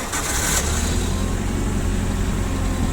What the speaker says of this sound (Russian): Сейчас запустим, покажу, как включаются все передачи, дам послушать, как работает мотор.